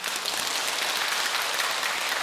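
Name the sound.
applause at Buddhist dharma ceremony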